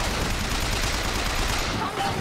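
Turret gunfire in Bioshock Infinite on 1999 Mode: a loud, dense, unbroken barrage of rapid automatic shots that fills the whole stretch without a pause.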